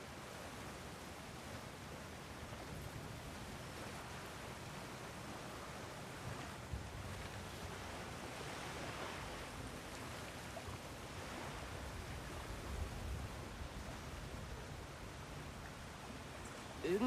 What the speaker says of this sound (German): Klingt, als sei das Wasser jetzt in Bewegung.